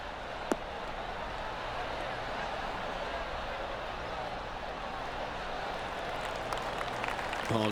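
Steady crowd applause from the gallery in the PGA Tour 2K23 golf game, a sustained patter of many hands holding at even strength over the clip, with a single sharp knock near the start.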